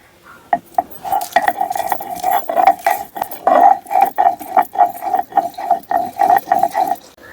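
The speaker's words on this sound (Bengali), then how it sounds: "এখন আদা আর কাঁচা লঙ্কা বেটে নেব।" Ginger and green chillies being ground for a vegetarian curry, a rhythmic run of hard scraping and knocking strokes with ringing metallic clinks, loud and close, with no voices.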